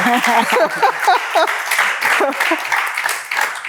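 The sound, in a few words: audience clapping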